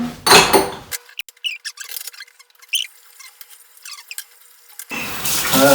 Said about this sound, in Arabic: يا حبيبي الصابون بينزل في الكوبايات، اشطفهم حلو